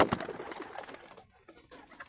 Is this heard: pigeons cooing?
yes